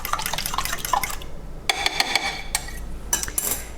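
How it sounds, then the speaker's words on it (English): A defrosted egg gets whisked in a bowl, with quick rhythmic clinks and wet taps of utensil on dish in short bursts separated by a brief pause, close and fairly clear. "I'm going to just give this a good little mix here."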